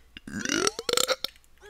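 A man's loud, drawn-out burp, close and bubbly, during a Super Mario Sunshine gameplay session, rising and breaking into several rough pulses over about a second before fading.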